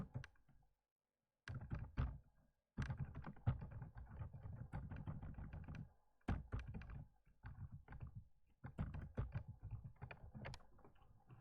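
Computer keyboard typing during a Bootstrap grid coding session, with bursts of close, rapid key clicks separated by short pauses and no talking.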